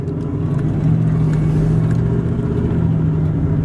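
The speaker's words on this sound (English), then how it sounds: "It's an easy truck to drive." Steady engine hum and road rumble inside a moving short-wheelbase truck, loud and continuous with no breaks.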